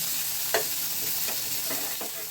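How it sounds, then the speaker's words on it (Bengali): Young neem leaves fry in a pan with a steady broadband sizzle, broken by a few spatula scrapes and stirs, close and without talk. "নিম পাতাটা আমি একটু ভালো করে ভেজে নিচ্ছি"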